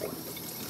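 Cold water streams from a robotic feeder into a jar during calibration, a brief steady pouring trickle heard close and fairly loud.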